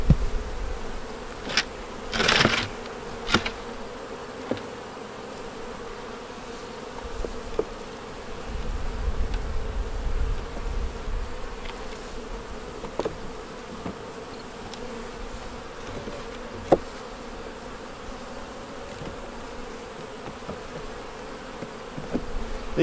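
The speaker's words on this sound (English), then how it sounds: "These bees are actually being very calm." Honey bees buzz steadily around an open backyard hive in late summer, a close, continuous drone with occasional louder passes near the microphone, and no talking.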